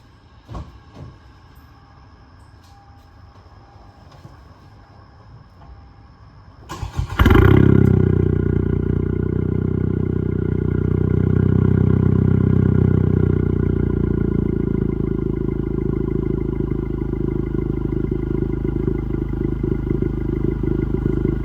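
A 10th gen Honda Civic sits in quiet with faint rustling until the starter catches and the engine bursts into a loud, close idle. The idle stays high and then slowly settles lower while it warms up.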